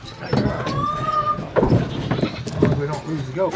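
Goat bleats while being loaded into a trailer for sale, with a drawn-out cry near the start and more bleats over busy clatter and people talking nearby.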